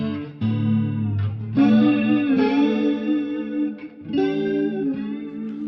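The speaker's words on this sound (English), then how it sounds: "it is a mix of the room, it is a mix of the delay, it is a mix of the reverb" Electric guitar played through a Fender Junior amp, its tone blending room sound, delay and reverb, sustained chords ringing out with a chorused, echoing shimmer, loud and alone.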